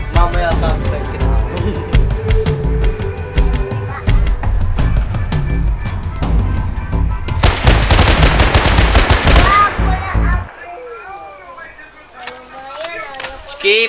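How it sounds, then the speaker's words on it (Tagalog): Rapid bursts of gunfire from a gun in the Minecraft video game, dense and loud with repeated shots, then a quieter stretch, layered with game sounds and close voices. "Ito yung baril ko, Chura."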